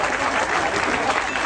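Steady broadband applause from an audience at a school event, continuous and dense for the whole stretch with no pauses, the clapping of many hands blending into an even wash.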